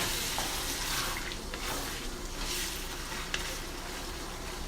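Carrots with red and green bell peppers frying in a pan, a steady soft sizzle with occasional stirring scrapes, fairly quiet and close, no voices.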